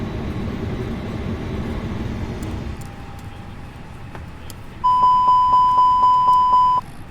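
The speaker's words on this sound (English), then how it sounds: "I want to get that full alarm on the APU test." A32NX airliner APU fire test alarm in Microsoft Flight Simulator: after a steady cockpit hum with a faint single tone, a loud repeating chime sounds about seven times in a quick regular rhythm, then cuts off.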